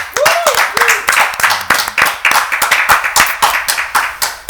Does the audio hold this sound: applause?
yes